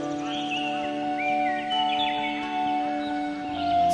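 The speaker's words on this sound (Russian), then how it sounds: "пение птичек." Small birds sing and chirp in a sunny summer meadow shaded by oak trees, with several thin, overlapping calls scattered at moderate volume across a steady soft background.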